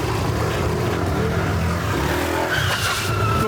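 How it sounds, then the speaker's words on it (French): A scooter being ridden in Bali brakes with a rough, sustained scraping skid over steady engine and road noise, fairly close and loud throughout, with no talking heard. "il met des coups de frein lui"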